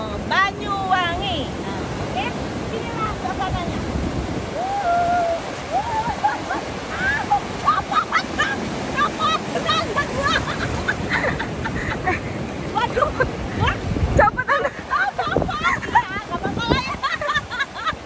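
Ocean surf at Pulau Merah beach in Banyuwangi, a steady broadband wash of waves running continuously with a slight swell near the end, while people talk over it.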